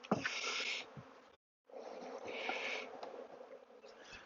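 Close, dense buzzing of many honeybees in a small hive, holding steady and cutting out briefly partway through before resuming.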